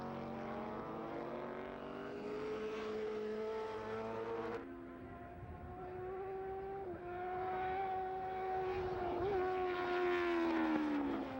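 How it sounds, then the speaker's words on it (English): A Honda FWS superbike races up the hill at Laguna Seca, its engine a loud, sustained high-pitched howl that holds steady. There is a brief drop mid-pass, and then the engine rises again as the bike accelerates away. "Listen to the sound of that FWS Honda. Quite a distinctive sound."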